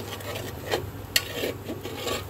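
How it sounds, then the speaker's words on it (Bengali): Egg frying in a pan being stirred, with soft scraping and rubbing strokes of a spatula against the pan and one sharp knock, quiet and close. "ডিমটা যে পর্যন্ত ভাজা না হবে সেই পর্যন্ত কিন্তু আমি এইভাবে সুন্দর করে নাড়তে থাকবো।"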